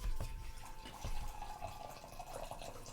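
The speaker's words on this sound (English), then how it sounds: "Hear the sound of pouring water." Water pours and drips faintly from a tap into a sink, played as a sound effect during a tabletop role-playing session; a steady, quiet trickle with no voices.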